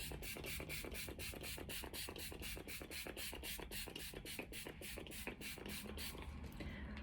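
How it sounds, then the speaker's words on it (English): Makeup setting spray applied from a little distance away from the face: a rapid series of short, regular spritzing bursts, many in quick succession, close and fairly quiet. "And setting spray is done."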